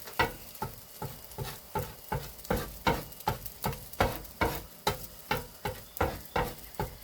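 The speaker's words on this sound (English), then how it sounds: "I'm going to let the eggs cook a little bit before I start mixing it in." Eggs cooking on a hibachi grill over high heat, with a regular rhythmic scraping or tapping of a utensil against the hot surface over a soft sizzle.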